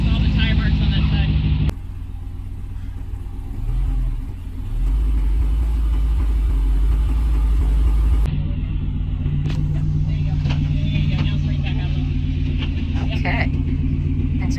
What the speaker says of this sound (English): your passenger front tire is climbing a rock